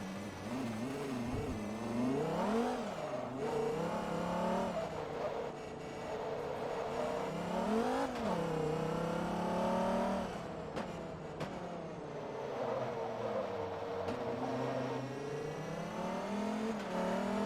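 Race car engine in the racing game Forza Motorsport 2, revving steadily through the lower rev range, with pitch rising and falling as the car accelerates and shifts, loud and continuous throughout.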